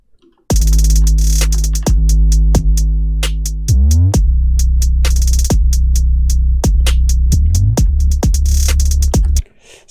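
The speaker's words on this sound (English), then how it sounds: "I'm having 808s and trap kick and trap snare," Trap beat of booming 808 bass notes with sliding pitch, punchy trap kicks, snare hits and rapid hi-hats, loud and continuous for about nine seconds with no talking.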